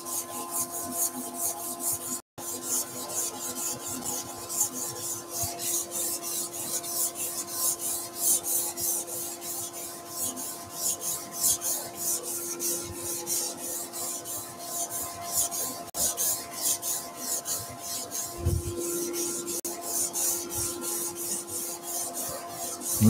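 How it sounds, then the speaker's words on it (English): Hand sanding a wooden garden tool handle along the grain, with the lathe stopped, gives a continuous close rasping rub with steady, rhythmic back-and-forth strokes throughout. "there's absolutely nothing stopping you from stopping the lathe just do a bit of hand sanding up the length of the grain"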